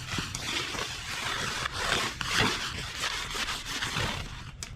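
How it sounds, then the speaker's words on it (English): A wood stove is polished with hot oil, giving a steady rubbing and scrubbing sound of cloth or pad worked back and forth across the metal surface, close and continuous. "This will spread that hot oil around."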